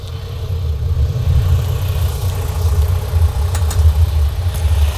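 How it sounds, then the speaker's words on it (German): A heavy Van Hool EX11H bus engine idles steadily with a deep, low rumble that holds constant throughout, close by and fairly loud. "Hier also befindet sich der Motor, der läuft auch gerade."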